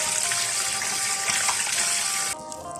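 Mai nam noi leaves are rinsed in water with a steady splashing, gushing sound, close and loud, that drops off near the end.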